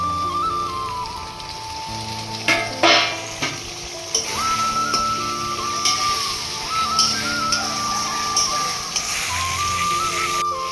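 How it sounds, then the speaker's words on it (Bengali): Tomatoes dropped into hot oil with frying onions and spices for a chicken curry, giving a steady mid-level sizzle with crackling bursts and a few sharp clatters of stirring, with no talking. "এবার যেই তেলটা ছাড়তে শুরু করেছে তখন দিয়ে দেবো টমেটো।"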